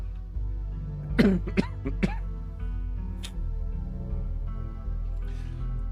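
A few short, sharp coughs and throat-clearing bursts close by over a low steady hum, followed by quieter background noise.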